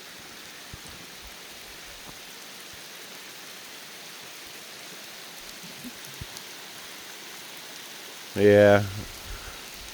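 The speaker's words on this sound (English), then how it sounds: "it's raining, coming down pretty good" Steady rain falling at night on a lakeside campsite in the Adirondacks, a constant broadband hiss throughout, with a brief voice near the end.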